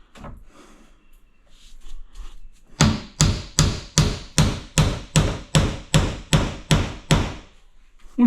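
A hammer striking a nail punch to set nails into a timber architrave, twelve sharp, evenly spaced blows ringing out close and loud after a few quieter taps.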